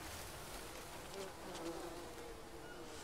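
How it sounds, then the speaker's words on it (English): Bees buzz near the bamboo in the jungle survival video game Green Hell, a steady, close insect drone that runs throughout with faint muffled voice beneath. "Stay away from the bees."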